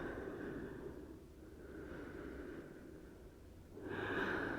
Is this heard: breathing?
yes